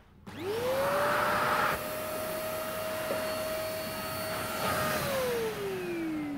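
A Eureka Forbes Active Clean vacuum cleaner starts up with a rising whine, then runs steadily and loudly, its pitch dropping slightly near the end as it winds down.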